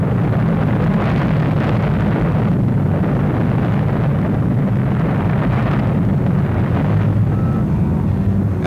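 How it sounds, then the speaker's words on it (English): A deep, continuous roaring rumble fills the air, loud and unbroken, like a massive eruption blast from the Mount St. Helens volcano, heard without any voices. "After the explosion, volcanic ash continued to spew into the air for days."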